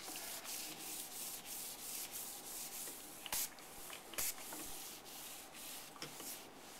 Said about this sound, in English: just continue applying the sealer